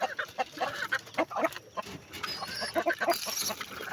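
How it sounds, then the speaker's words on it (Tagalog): A backyard chicken clucks in a busy, uneven run of short close calls, with faint rustling underneath. "maingay yung manok namin."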